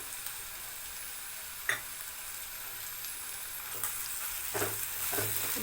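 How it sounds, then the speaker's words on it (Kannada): Ivy gourd frying in oil in a pan on low heat, a steady soft sizzle with occasional stirring scrapes and clicks, close and unaccompanied by talk. "ಇದೇ ಎಣ್ಣೆಲೆ ಇದು ಸಿಮ್ಮಲ್ಲಿ ಇಟ್ಬಿಟ್ಟು ಇದನ್ನ ಇನ್ನೂ ಸ್ವಲ್ಪ ಹೊತ್ತು ಚೆಂದ ಫ್ರೈ ಮಾಡಿ"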